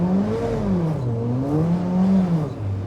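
A Kimera EVO38, a reborn Lancia rally car, revs steadily, its pitch rising and falling in smooth sweeps, loud and close throughout.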